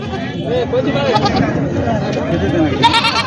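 A goat bleats in wavering cries amid people talking nearby at a goat market, with a brief sharper sound near the end.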